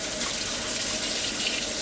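Tap water runs in a steady, loud, continuous rush as produce is rinsed under the faucet, with no talking.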